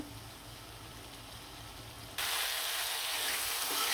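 Vegetables sizzle in a pan while being sautéed for a rohu fish curry with beans, a steady hiss that jumps suddenly louder and brighter partway through, with no talking.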